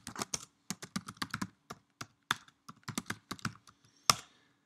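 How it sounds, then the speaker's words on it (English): Fingers tap out a terminal command on a MacBook keyboard, a quick run of crisp, close key clicks in uneven bursts with short pauses, ending in one sharper keystroke. "Just type in the command Ansible."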